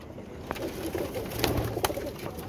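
A flock of 15 to 20 pigeons coo softly and repeatedly nearby, with a few sharp clicks and rustles over a steady outdoor background.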